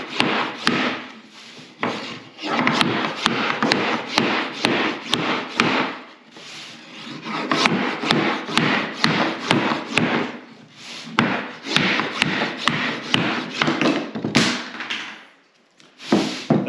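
A drop-edge strip is pried off an MDF countertop that was prepared for epoxy, giving a dense run of close, loud wooden cracks, creaks and scraping rubs, with brief pauses near the middle and the end.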